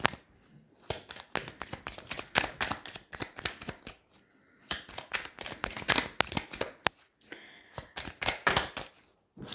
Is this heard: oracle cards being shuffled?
yes